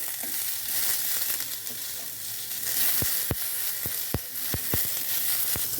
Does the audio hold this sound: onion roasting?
yes